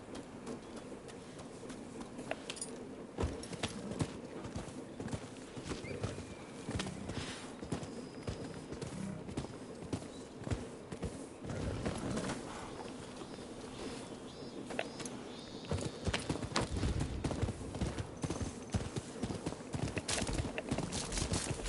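Horse hooves clip-clop steadily in Rise of the Ronin gameplay, a continuous rhythmic clatter of footfalls with a busy background throughout.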